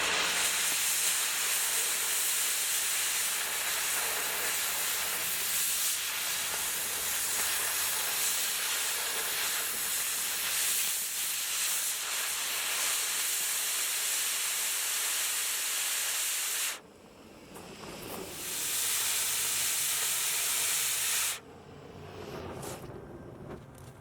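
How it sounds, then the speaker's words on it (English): A cutting torch cuts the steel corners off a welding table, a loud close roaring hiss that holds steadily for about seventeen seconds, breaks off briefly, resumes, then cuts out again. "I'm using the torch to round the corners over"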